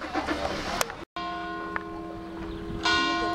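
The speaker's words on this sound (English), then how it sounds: "The bells are ringing." Church bells ring out in a steep seaside Cinque Terre town on the Mediterranean, sustained metallic tones with lingering resonance that swell louder near the end, over faint background ambience.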